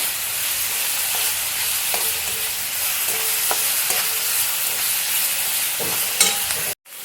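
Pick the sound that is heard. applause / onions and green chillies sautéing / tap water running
onions and green chillies sautéing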